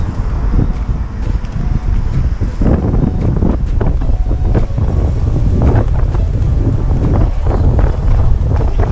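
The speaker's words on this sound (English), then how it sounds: "See, I told you it was windy." Strong wind blows hard across the microphone outdoors, a loud, constant roaring buffet with gusting low rumbles and no pause throughout.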